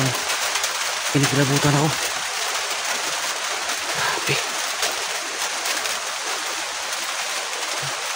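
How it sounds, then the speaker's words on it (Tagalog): Heavy rain pours down steadily in a broad, hissing roar outdoors near a hut, continuous throughout, while someone talks briefly over it. "Maraming ulan guys"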